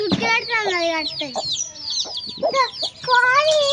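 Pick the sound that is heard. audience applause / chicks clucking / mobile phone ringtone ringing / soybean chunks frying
chicks clucking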